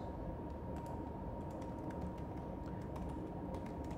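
Soft, scattered clicks of someone typing on a computer keyboard sit faintly over a constant low hum throughout.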